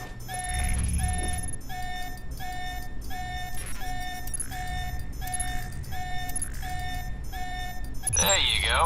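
Repeating electronic alarm ringing inside the video game Alpha Protocol, a steady pulsed tone cycling roughly every half second for the whole stretch, loud and persistent under game noise.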